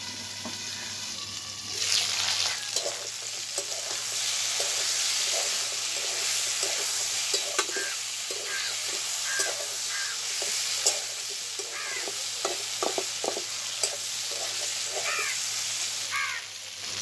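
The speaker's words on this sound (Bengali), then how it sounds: "আলু আর পুঁই শাক ডাঁটাকে আমি পেঁয়াজের সঙ্গে একটু ভেজে নেব।" Potato and Malabar spinach stems frying with onions in a pan, a steady close sizzle throughout broken by repeated scraping and stirring clatters.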